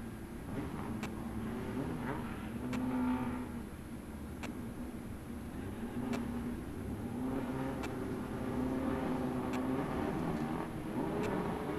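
Volkswagen drag cars racing side by side at the 2012 West Coast Hot Rod Association season finals eliminations, a steady engine roar held at a distance for several seconds with small surges, with no voices.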